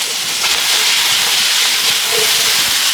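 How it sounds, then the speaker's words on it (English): Shrimp searing in a hot pan for shrimp and spinach in coconut milk, a loud, continuous hissing sizzle that holds steady throughout, with no talk. "Quick sear on each side."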